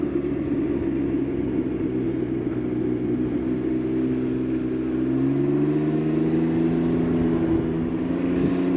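A Can-Am Ryker three-wheeler rides over the Horns Hole Bridge, its engine humming as a steady, close, low rumble that shifts pitch slightly as the bike accelerates, with wind noise and no talk.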